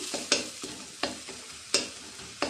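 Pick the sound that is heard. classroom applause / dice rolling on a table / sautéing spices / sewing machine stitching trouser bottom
sautéing spices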